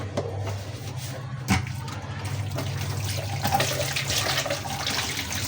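An oily cooking pot is washed under running tap water, giving a steady splashing flow with faint scrubbing and clinking. No one speaks.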